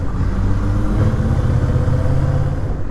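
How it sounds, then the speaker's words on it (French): A 2022 Honda CMX 1100 Rebel DCT cruiser motorcycle idles with a low, steady, quiet purr, its smooth engine rumble holding constant and close without revving or talk. "Sur cette moto, absolument pas. Voilà, c'est un petit bruit ronronnant."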